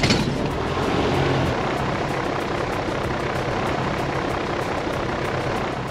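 A Piper PA-28 light aircraft engine catching and settling into a steady, loud, rough running drone with constant propeller noise throughout.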